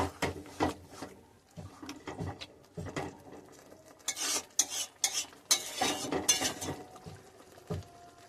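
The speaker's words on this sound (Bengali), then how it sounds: "মাংস আর মশলাটা ভালো করে নাড়াচাড়া করে কষিয়ে নেব" Marinated chicken with spices being stirred and fried in a pan for a traditional home-style chicken dish, irregular spatula scrapes and clatters over a low sizzle, close and lively with no talking.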